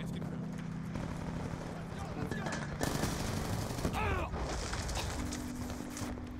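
Rapid video-game gunfire in Black Ops 2 Plutonium, bursts of sharp shots layered over a constant mechanical hum, with a louder crackling burst midway and game effects sweeping past.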